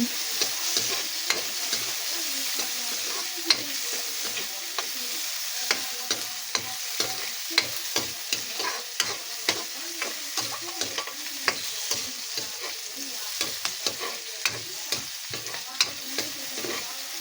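Tomatoes and bitter gourd sizzle in a frying pan, a continuous close hiss punctuated by regular sharp clicks and scrapes of a utensil stirring the pan.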